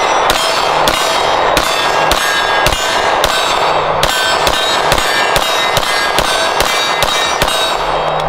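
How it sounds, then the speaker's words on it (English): A Springfield Armory Echelon pistol fired in a long, steady string of about fourteen sharp, very loud gunshots, evenly spaced with ringing decay after each, nobody speaking. "I'm just gonna go ahead and shoot a couple"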